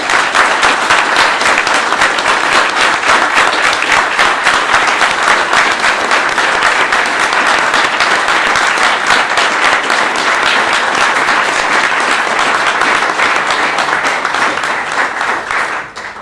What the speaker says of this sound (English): So can we have a round of applause, please, for Robin Pello?